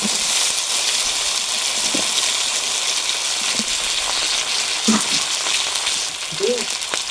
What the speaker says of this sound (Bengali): আলুটা দিয়ে দিয়েছি বড় কচুটা দিয়ে দেবো